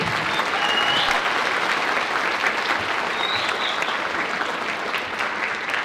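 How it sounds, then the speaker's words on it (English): A steady wash of applause from a school winter concert audience at a Tuesday-night show, sustained and fairly even, with no pause or talk over it. "So big round of applause for yourselves for coming out on Tuesday."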